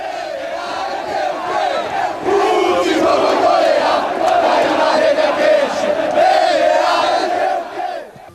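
Football fans in a stadium roar and chant together, a loud massed crowd sound swelling after a couple of seconds and sustained with a rising and falling sung tone before tapering off.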